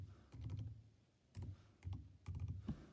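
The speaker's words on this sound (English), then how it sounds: "so you just need to type in Cross Hill." Typing on a computer keyboard to enter a school name on a login page, heard as three close bursts of rapid key clicks separated by short pauses, with no talking.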